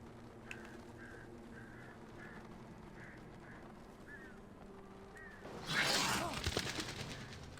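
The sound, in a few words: bird call in the video game Alan Wake Remastered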